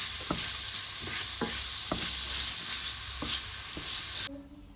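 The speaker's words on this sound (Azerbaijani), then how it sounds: "İndi bu kotletlərin yağı çıxmış tavaya və dadı çıxmış tavaya soğanları əlavə edirəm. Birazca soğanları qovururam." Chopped onions fry in a pan holding the fat left from cutlets, giving a loud, steady hiss broken by regular scraping stirs. The sizzle cuts off abruptly near the end.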